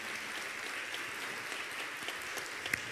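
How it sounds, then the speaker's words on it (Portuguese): A church congregation applauding during a Catholic priest's sermon, a steady patter of clapping from many hands, moderately distant and even throughout. "Dá uma salva de palmas para a fé da nossa irmã."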